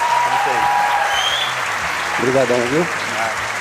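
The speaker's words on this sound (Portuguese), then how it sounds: "Mais uma salva de palmas para o Rafael." Church audience applauding for Rafael, a steady wash of clapping throughout with a voice talking over it near the end.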